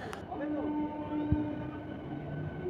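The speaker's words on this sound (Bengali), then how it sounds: "এই মুহূর্তে রামরাজাতলা স্টেশন ছেড়ে হাওড়া পাঁশকুড়া লোকাল তার গন্তব্য স্টেশন পাঁশকুড়ার উদ্দেশ্যে রওনা দিয়েছে" Howrah–Panskura EMU local pulling out of Ramrajatala station, a quiet low rumble with steady motor whine tones and a brief clunk, heard from on board.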